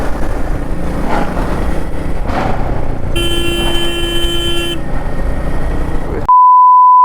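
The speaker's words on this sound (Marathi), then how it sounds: "एवढी ट्रॅफिक लागते ना इथे सकाळ सकाळी" Loud, steady morning road traffic rumble on Vashi Bridge, Navi Mumbai, with a sustained car horn blast in the middle, ending abruptly in a single flat electronic tone.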